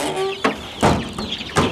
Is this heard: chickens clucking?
yes